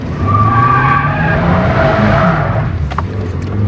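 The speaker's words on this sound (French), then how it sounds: "Petit drift, oui." A Mazda MX-5 NA drifts on a French road, its tires squealing and skidding loudly while the engine note climbs and drops, then fades into a short rough scrape.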